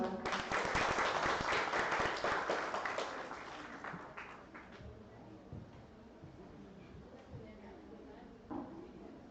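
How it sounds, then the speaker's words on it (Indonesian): Audience applause at an Indonesian teacher-internship session fills the room loudly and densely, then thins and fades over several seconds while a voice carries on softly beneath. "Boleh tepuk tangannya teman-teman."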